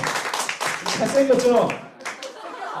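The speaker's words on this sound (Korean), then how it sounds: "그래도 박수 한 번만 쳐줄까요?" Youth group at a Sunday church service claps briefly, the clapping heard under an adult speaking and scattered laughter, then fading as talk continues.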